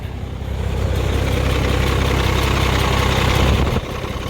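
A heavy truck engine idles steadily up close, a constant low rumbling drone that dips briefly near the end, with an ISM engine's water pump making noise.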